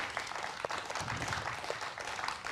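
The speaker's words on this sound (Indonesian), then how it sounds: "Berikan aplaus untuk putaran pertama ini" An audience applauds after the first round of a 2020 public debate between regional head candidates in Malinau, with a dense, fairly faint wash of clapping that is steady throughout.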